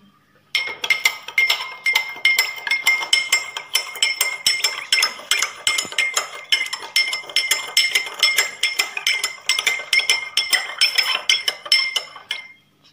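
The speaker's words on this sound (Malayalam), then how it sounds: "നമുക്ക് ഉപ്പ് ഇട്ട് കൊടുക്കാം നമുക്ക് നല്ലോണം ഒന്ന് ഇളക്കി കൊടുക്കാം" A spoon stirs salt into water in a glass, producing rapid, continuous bright clinking of metal against glass, close and fairly loud, lasting about twelve seconds.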